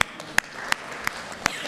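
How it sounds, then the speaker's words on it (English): Applause at a town meeting in Carlisle, a short burst of scattered hand claps from the gathered residents, several distinct sharp claps in an uneven rhythm, moderately close. "You all deserve a round of applause"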